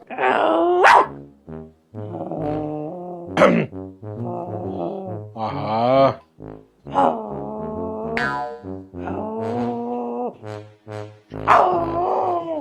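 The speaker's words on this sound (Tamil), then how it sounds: "அங்க ஒரு நாய் இருக்கு" A dog barks and whines in a series of drawn-out, tonal yelps and howls, loud and close, with short pauses between outbursts.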